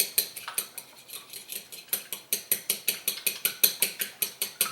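A fork whisks an egg briskly in a bowl for pancake batter, a fast, even run of sharp metallic clicks and scrapes, about five strokes per second, close and steady with no talking.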